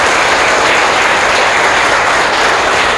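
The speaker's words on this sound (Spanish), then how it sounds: "¿Cuántos pueden aplaudir bien fuerte al Señor?" Loud, dense applause from a church congregation clapping for God during a service, a steady roar of many hands filling the whole stretch with no voices standing out.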